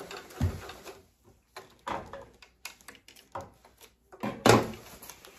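Sewing machine stitching rolled-up fabric for an outdoor noodle cushion: several uneven bursts of close mechanical whirring and clatter separated by quiet gaps, the last burst loudest.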